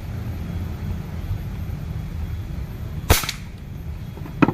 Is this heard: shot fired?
yes